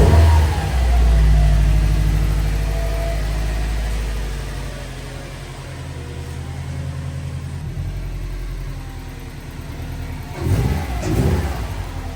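A Subaru engine runs steadily just after its ignition coil connector repair, idling with a smooth, even low rumble and a brief rise in revs near the end.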